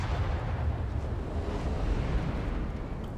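Heavy shell impacts and distant booming from naval gunfire hitting a ship in World of Warships, a steady low rumbling barrage with no clear separate hits, loud and continuous.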